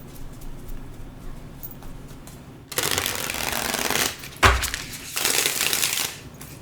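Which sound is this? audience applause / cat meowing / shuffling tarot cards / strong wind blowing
shuffling tarot cards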